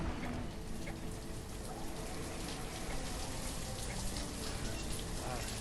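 Steady, dense rain falls continuously in the city-building game Banished, a constant hiss of drops close by with no talk over it.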